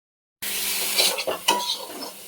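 A spice paste of onion, garlic, ginger, tomato and green chilli fries in oil, starting abruptly after silence as a loud close sizzle with scraping spatula strokes against the pan, without talk.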